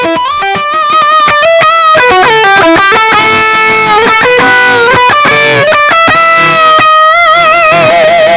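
Distorted electric guitar played through a GGD Fat Baby 1x12 cabinet impulse response with stereo miking, a loud run of rapid picked notes and sustained chords with a natural roomy tail, no talking.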